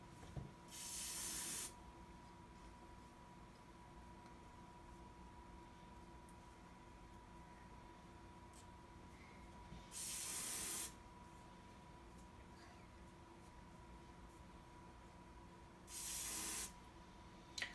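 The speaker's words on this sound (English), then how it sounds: "the hairspray we use around here is the Professional Sebastian Shaper Fierce, and it is literally the greatest hairspray that ever existed" Professional Sebastian Shaper Fierce hairspray sprayed onto hair while styling a dance recital updo, giving three separate hissing aerosol bursts of one to two seconds each, close and fairly loud over a quiet room.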